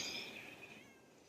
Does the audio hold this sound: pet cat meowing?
yes